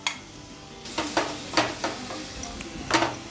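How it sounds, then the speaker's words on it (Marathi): A paste of ground dried coconut, onion and whole spices sautéed in a pan, heard as a few distinct spatula scrapes and knocks against the pan over a faint low sizzle, close but quiet. "छान परतून घेऊया हे वाटण।"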